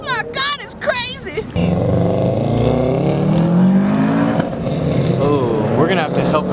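A car revs hard with a loud, raspy aftermarket exhaust at an illegal night street race and car meet, a steady roaring drone lasting several seconds, with excited shouting and cheering voices over it near the start.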